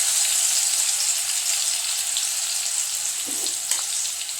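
Ginger, green chilli, garlic and shallots sauté in a hot pan, giving a continuous bright hiss of frying with faint spattering and a couple of soft clicks near the end.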